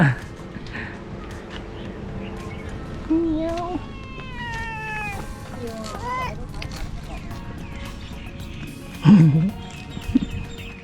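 A cat meows several times in a village in Thailand, with short, near cries that rise and fall. Someone talks in between, and rain or background noise hums underneath.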